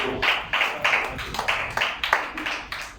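A church congregation claps together in a worship service, a run of sharp, fairly regular hand claps with a steady rhythm that fills the room, with no talking over it.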